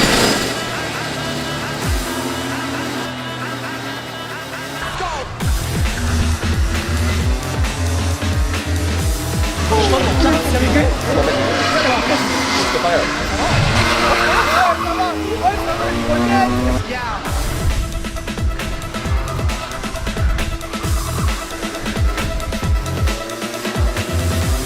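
Race car engine starting up and pulling away, a loud continuous roar with rising and falling revs under ongoing talk.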